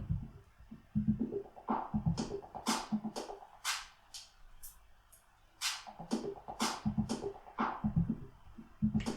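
Filter effect from a Mixars Primo Serato DJ Pro controller sweeping over a looping beat of repeated percussive hits, cutting the low end in the middle before the full bass returns; no talk.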